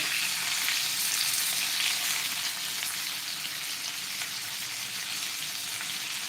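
Bangda mackerel fries in a pan with a steady, dense crackling sizzle that stays loud and close throughout, easing slightly toward the end, with no voices over it.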